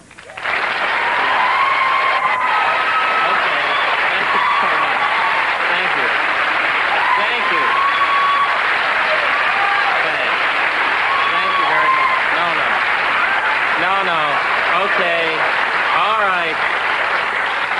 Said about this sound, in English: we have somebody cueing the applause